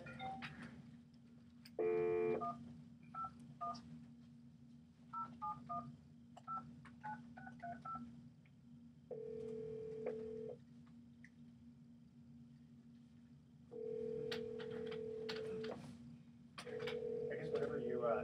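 Touch-tone DTMF beeps sound as a telephone number is keyed in a radio studio, separate short tones in uneven bursts, followed by longer steady call-progress tones over a constant low hum.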